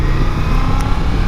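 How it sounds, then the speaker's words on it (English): Honda VFR750 motorcycle with a stock exhaust, its engine giving a loud, close, throaty roar with a supercharged-like whine, steady and unbroken through the short moment. "It gives this bike a really unique, throaty sort of roar with almost a supercharged overtone."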